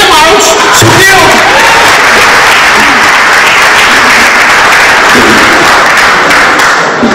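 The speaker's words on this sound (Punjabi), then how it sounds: "ਤਾਲੀਆਂ ਦਾ ਮਾਰੋ, ਸੁਣਦੇ ਹੋ?" Loud, sustained applause fills a large gathering at a political speech, dense clapping with scattered thumps and shouts from the crowd running throughout.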